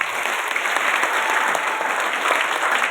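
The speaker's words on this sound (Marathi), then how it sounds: "एकदाने टाळ्या वाजवा." An audience in a hall claps together, a sustained, even wave of applause from many hands with no break.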